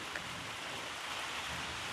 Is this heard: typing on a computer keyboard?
no